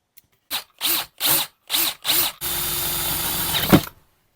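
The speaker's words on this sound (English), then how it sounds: "This is a 40mm Forstner bit." A 40mm Forstner bit is used on a Maestro by Gibson guitar. Five short drill bursts start and stop in quick succession, then one longer continuous drilling run that grinds and ends with a sharp scrape.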